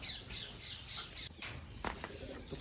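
A pigeon gives a few short squawks and scratchy chirps up close while being handled, amid rustling and handling noises.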